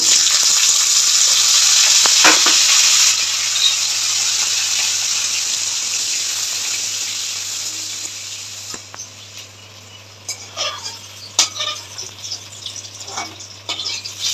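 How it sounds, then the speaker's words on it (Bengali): Bitter gourd frying in hot oil gives a loud, steady sizzle with no talk over it, then thins to softer crackling and a few stirring knocks near the end. "এই তেলে আমি একটা একটা করে তিনটে সবজি ভেজে নেব প্রথম উচ্ছেটা ভাজছি"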